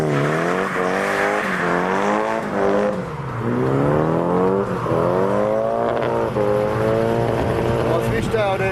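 A battered Corolla drift car fishtails with long, wavering tire squeals that rise and fall over a revving engine, loud and continuous for several seconds.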